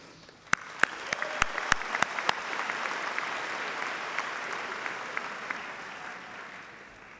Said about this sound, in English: give a round of applause to the band, the choir, and our musical performers